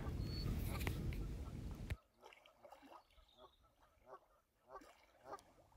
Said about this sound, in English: Those geese, they're really noisy.